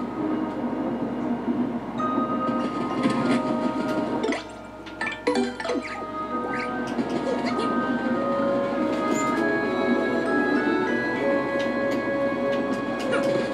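Train running in the video game Paper Mario: The Thousand-Year Door, a steady rolling rumble with clicking wheel sounds, briefly quieter near the middle, with game music tones and chimes layered on top.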